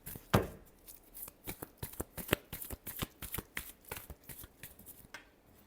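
Tarot cards are shuffled by hand for a Libra love reading, giving a quick, irregular run of soft riffling snaps and flicks, close and fairly quiet, with no talking.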